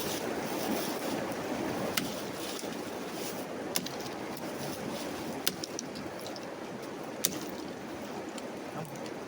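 Fast-moving river water rushes steadily beside a backwoods campsite, a dense continuous broadband roar with a few faint clicks and knocks on top and no talking.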